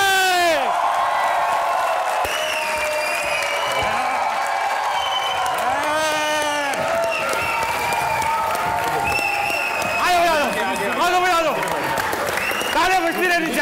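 A studio audience on a comedy talk show claps and cheers loudly in a steady, sustained wave of applause, with a voice speaking over the crowd throughout.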